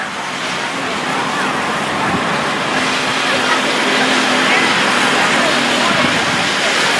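Race cars roar around an oval speedway at Gulf Coast Speedway in a steady, loud wash of engine and road noise that carries on without a break.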